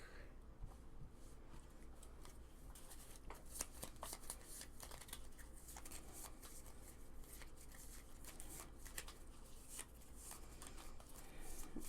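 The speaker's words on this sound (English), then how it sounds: "I love the shuffling in this game." Cards are shuffled continuously and close up during a Pandemic Legacy Season 2 board game session, giving a soft, steady riffling and flicking that runs quietly for about twelve seconds with no talking.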